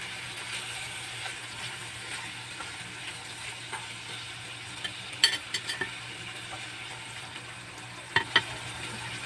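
Chicken being stirred in a pan over a steady low sizzle, with soft scraping and occasional sharp clicks of a utensil against the pan, fairly quiet and with no talking.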